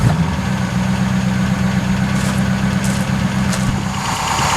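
A restored Daimler Dart V8 engine idles steadily after a cold start, a smooth even low rumble held close and loud throughout with no talk.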